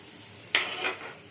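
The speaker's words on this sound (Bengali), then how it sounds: "আমি একটাই আমি ফোড়ন দিচ্ছি।" Whole spices and bay leaf hit hot oil for a Bengali shukto tempering, setting off a sudden sharp sizzle that flares up and then settles into a softer crackle. The frying is close by and fairly quiet, with no talking.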